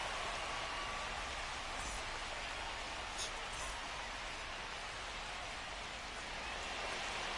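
Steady rain falls in the MLB The Show baseball video game at a ballpark, a constant even hiss that fills the whole stretch without letting up.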